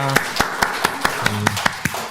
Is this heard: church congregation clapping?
yes